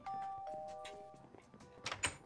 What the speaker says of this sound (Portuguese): tem alguém tocando a campainha